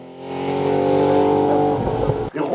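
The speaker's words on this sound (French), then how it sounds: "c'est Michel Torca qui s'est imposé dans le groupe 4 au volant de sa Porsche 911 RSR" A race car, a Porsche 911 RSR at a hill climb in Turckheim, roars loudly past at close range, its engine note swelling and holding high before abruptly cutting off, with no voices heard.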